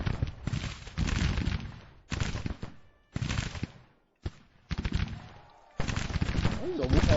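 Brigades open musket fire in the Civil War strategy game Grand Tactician, heard as dense crackling volleys in bursts separated by short pauses, with horse hoofbeats mixed in.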